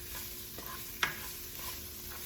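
Food cooking in a pan on the stove for a garden tomato basil soup, a soft steady sizzle with one brief clink partway through and quiet stirring.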